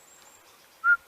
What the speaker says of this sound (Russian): Птичка такая, как будто сидит где-то человек и свистит такой.